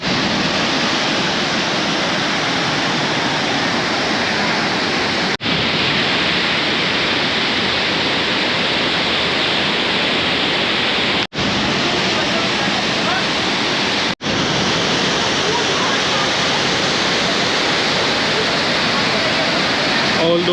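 Dassam Falls in monsoon flood roars as a dense, steady wall of falling water, loud and continuous with no pauses, drowning out everything else.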